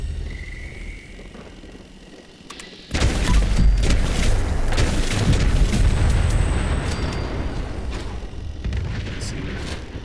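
A loud booming explosion in the video game Fallout 76 bursts in abruptly after a quiet stretch, then rumbles on as sustained dense crackling noise for several seconds.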